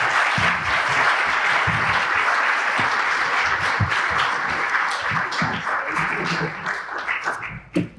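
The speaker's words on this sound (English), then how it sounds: "Let's give our panelists a round" A business forum audience gives a loud, sustained round of clapping for candidate panelists, many hands patting densely and close, tapering off into a few scattered claps at the end.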